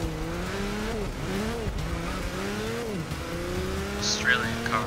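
Race car in Forza Motorsport 6 at full speed, a loud engine drone swooping up and down through gear changes as the car slides loose off a corner, a brief high tire squeal near the end, someone talking underneath.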